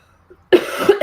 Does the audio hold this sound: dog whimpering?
no